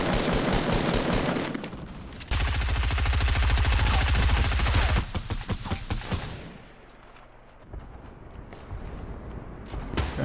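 Rapid automatic gunfire blasts out in loud sustained bursts in Fortnite, aimed at an enemy player up a hillside in Wailing Woods, then drops to quieter scattered shots and game ambience.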